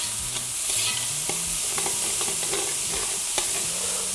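Onions and pancetta frying in a pan for veal osso buco ragu, a loud, close, continuous sizzle with scattered clicks and knocks of a spoon moving through the pan.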